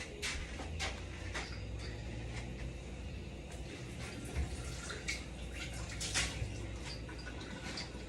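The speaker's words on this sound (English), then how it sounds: "I'm going to get some of this pasta water out," Pasta water scooped out of a pot on a kitchen stove: scattered splashes, drips and small utensil knocks come in irregular bursts over a steady background hum, fairly quiet with no talking.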